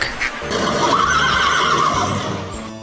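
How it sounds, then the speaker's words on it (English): A horse whinnies loudly in one long, shaky neigh over a steady background hiss, with no voices present. "horse"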